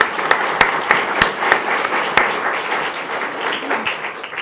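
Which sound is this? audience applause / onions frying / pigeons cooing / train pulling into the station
audience applause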